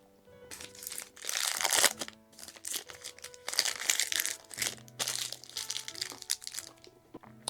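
Crunchy vanilla-coated protein bar with little cookie bits being chewed up close, with bursts of crisp crackling and crinkling bites in uneven clusters, brief pauses between them, and no talking.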